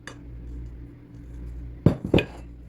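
A spatula scrapes gluten-free scone dough from a mixing bowl, ending in two sharp, close knocks and scrapes against the bowl after a quiet start.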